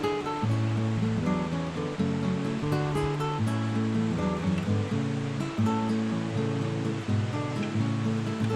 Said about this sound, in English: The river is now to my right, and you can hear the rush of the water.